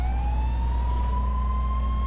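A police priority siren in a driving video game wails loudly and continuously, its pitch sliding steadily upward across the whole stretch.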